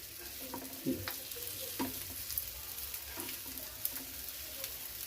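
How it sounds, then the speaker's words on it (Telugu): Spinach veg kababs shallow frying in a pan, a soft steady sizzle with occasional spatula taps and scrapes at a gentle, irregular pace, close and fairly quiet. "చూసారా ఇలా కాల్చుకోవాలి ఎంత బాగా కాలుతున్నాయి అవి షాలో ఫ్రై ఫ్రై చేస్తే చాలా బాగుంటాయండి"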